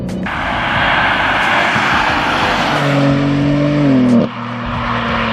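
A 2021 BMW M3 Competition, rear-wheel drive, pulls hard under acceleration with a sustained engine roar and rising harmonic tones, then a brief dip as it shifts near the end, tires briefly spinning.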